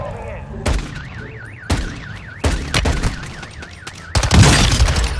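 Warbling car alarm in a gunfight video game, a siren tone rising and falling steadily under sharp bursts of gunfire and booms, fairly loud and close.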